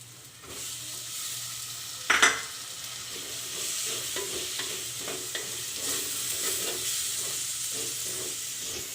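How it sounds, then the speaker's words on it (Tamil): Tomatoes sautéing for chicken kuzhambu in a clay pot, a steady close sizzle and hiss with stirring scrapes throughout and one sharp clatter early on, no voices. "தக்காளி கொஞ்சம் குழையிற வரைக்கும் நம்ம வதக்கிக்கலாம்."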